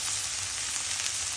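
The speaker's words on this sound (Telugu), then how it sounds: "చూడండి లాస్ట్లో ఆనియన్స్ వేసుకొని ఫ్రై చేసుకోవడమే." Onions frying in a pan while vegetables are cooked, a steady soft sizzle with faint crackling throughout, no voices.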